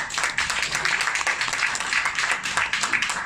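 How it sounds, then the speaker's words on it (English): An audience claps for a doctor who has just spoken, a short burst of dense, fairly close applause filling the whole moment with no voices over it. "And give him a big clap."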